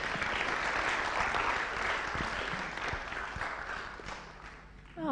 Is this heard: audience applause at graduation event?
yes